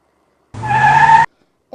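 A fidget toy spun on a table makes a single short, close whirring buzz with a steady pitch, lasting under a second before stopping abruptly.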